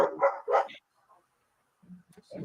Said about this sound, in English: How did I hear some dogs barking or what?